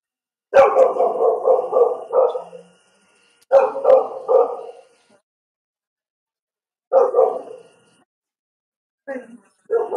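A household dog barks in several rapid bursts: a long volley near the start, another shortly after, then shorter groups separated by silence. The barking is close and fairly loud, with no talk over it.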